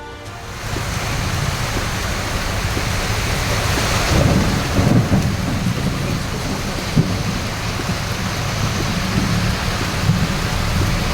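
Heavy downpour with thunder over Tambaram near Chennai, a loud, steady roar of rain with rolling rumbles of thunder running throughout, no voices.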